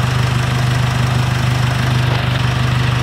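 A Nissan X-Trail engine runs at a steady idle, a constant low drone with an even throbbing pulse, close and loud, with no voices.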